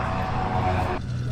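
A propeller airplane lines up for takeoff at the La Ferté-Alais air show, its engine a steady loud droning roar that drops back slightly near the end, with faint talk underneath.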